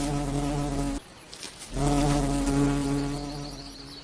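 A hungry wasp buzzes close by, a steady droning hum that cuts out briefly and then resumes at full strength.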